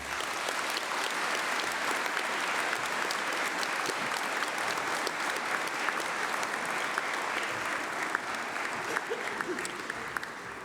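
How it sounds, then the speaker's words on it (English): A large audience at a graduation ceremony claps in a loud, dense, sustained round of applause that runs steadily from start to finish with no talking. "Please join me in a massive round of applause for them."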